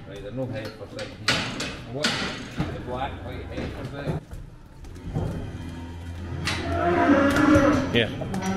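Heifers being dosed in a farm shed moo loudly and repeatedly close by, mixed with metallic gate and door clatter and bangs, while people talk in the background.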